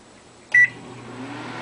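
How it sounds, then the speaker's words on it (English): A single short keypad beep sounds on a microwave oven as its frozen vegetables setting is pressed, then the oven's low, steady running hum continues. "I put them in the microwave, and I'm pressing frozen vegetables"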